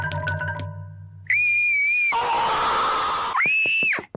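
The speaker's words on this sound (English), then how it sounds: "Daddy Pig is really very concerned about Peppa's screams" Cartoon character Peppa Pig screams, a long, loud, high-pitched shriek that wavers and stops, then starts again in a burst of breathy noise and a final scream, with no talking.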